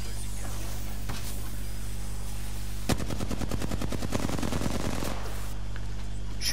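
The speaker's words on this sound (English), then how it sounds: "Shooting in the dark." Automatic weapon fire in the video game Apex Legends, a rapid burst of rounds lasting about two seconds over a steady game hum, following a single louder shot.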